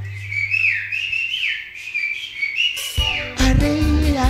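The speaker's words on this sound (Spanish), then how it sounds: "Todo el mundo va a silbar." Someone whistles a wavering, sliding tune for a few seconds before louder music with voices cuts in.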